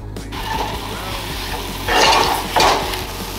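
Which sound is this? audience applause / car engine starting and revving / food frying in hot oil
food frying in hot oil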